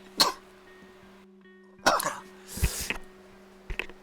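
A single sharp sneeze bursts out indoors, followed by a few more short throaty bursts and sniffs over a faint steady hum.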